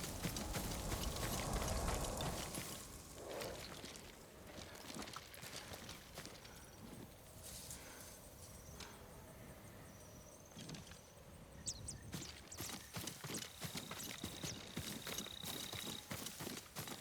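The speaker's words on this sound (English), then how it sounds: "Yuriko's horse." A horse's hooves clip-clop in the Ghost of Tsushima video game, with steady, moderately quiet footfalls on the ground and faint ambient game sound around them.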